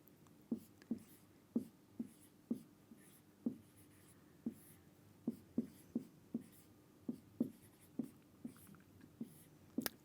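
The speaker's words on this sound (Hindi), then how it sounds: "मैं हिंदी में आपके लिए लिख देती हूँ।" Pen or marker strokes on a board or paper while writing a Hindi word, a steady series of about fifteen distinct tapping scratches at a regular pace, close and fairly quiet, with no speech.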